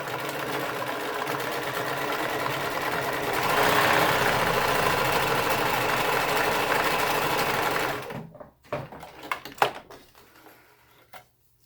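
A sewing machine stitching fabric hums in a steady, fast mechanical whir for about eight seconds, growing slightly louder midway, then stops abruptly, followed by a few soft clicks and handling sounds.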